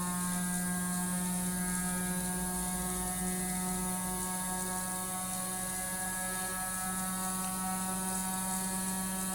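A battery-powered gyroscope motor spins up, producing a steady whining hum with layered tones that holds constant throughout.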